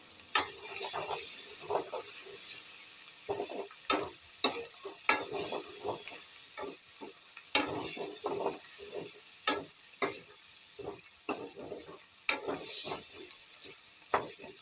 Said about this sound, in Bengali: ডুমুরটাকে কিছুক্ষণ সময় ধরে তেলের মধ্যে ভালোভাবে ভাজতে হবে